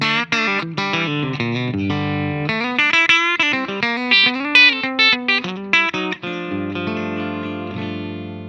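Electric guitar played through a Fender Mustang Micro headphone amp on its '65 Twin model with compressor and a touch of hall reverb: clean, sustained chords and picked notes with a smooth, even level, ending on a ringing held chord.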